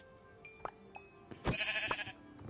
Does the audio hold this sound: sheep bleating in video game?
yes